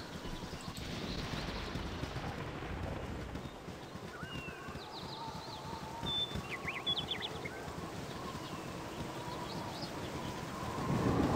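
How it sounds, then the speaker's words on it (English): Steady rain and distant rumbling thunder from the Baldur's Gate: Enhanced Edition game play as a constant wash of noise, with faint bird-like chirps and tones above it and a slight swell near the end. "And here comes the rain again."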